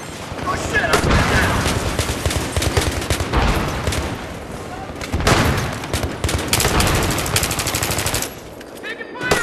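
Dense automatic gunfire fills a Grand Bazaar map in a team shooter video game, with sustained rapid bursts and overlapping shots, loud and close, while voices talk over the fighting.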